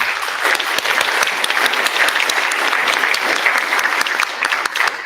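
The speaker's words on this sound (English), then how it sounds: "give our spellers a hand of applause" A spelling bee audience for seventh and eighth graders claps for the spellers, a dense, even burst of applause from a roomful of people lasting several seconds.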